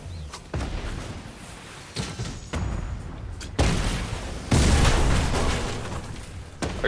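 Grenade explosions in a video game, a series of loud booming blasts at irregular intervals, each with a rumbling tail, growing heavier toward the end, with no talking.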